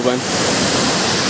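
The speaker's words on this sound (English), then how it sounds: "there is your waterfall" A distant waterfall near Aguas Calientes in the mountains gives a steady broadband rush, with someone speaking briefly at the start over it.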